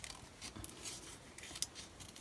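Small scissors cut an altered playing card, giving a couple of faint, crisp snips over quiet paper rustling.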